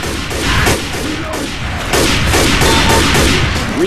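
Rapid gunfire rattles in a Left 4 Dead 2 versus match on the Dark Carnival map, a dense, loud, continuous burst of shots with no pauses across the whole stretch.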